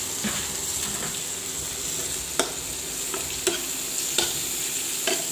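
Tomatoes and coriander leaves sizzle in a pan while a utensil stirs them, with a steady frying hiss and a few sharp scrapes and clinks against the pan.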